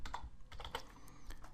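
Quick, light keystrokes on a computer keyboard click in an irregular run, close and fairly quiet, with no talking.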